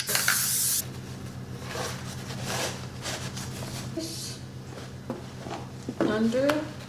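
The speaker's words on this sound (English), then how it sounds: "I'm going to spray the piece of cardboard" A spray bottle mists a piece of cardboard for screen printing a T-shirt, one sharp hissing burst at the start followed by quieter handling, rustles and a person talking.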